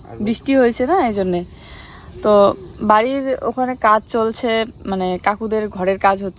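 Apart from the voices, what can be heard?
crickets chirping near a maize field after rain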